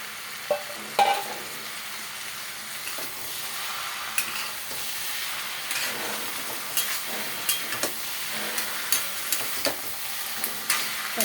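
Food stirred in a pan over a gas flame with a soft frying sizzle, scattered close scrapes and clicks of the utensil recurring every second or so, no talk.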